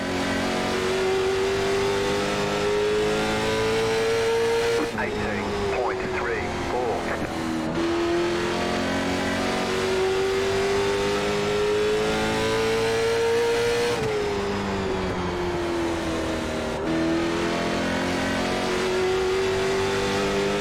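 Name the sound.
late model stock cars racing at Irwindale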